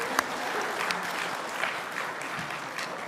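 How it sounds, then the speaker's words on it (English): A crowd of listeners breaks into applause, a dense, steady wash of clapping at moderate loudness with a few sharper claps standing out, continuing without pause. "give it a round of applause because that was like, come on,"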